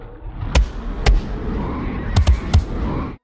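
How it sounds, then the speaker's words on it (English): Several punchy punch-impact sound effects used as gunshots in a first-person shooter game, over a steady low rumble: two single thumps, then a quick cluster of three near the end. "It's a punch impact sound."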